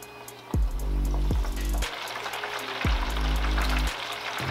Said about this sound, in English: you're going to let these guys fry until they get that golden brown texture on them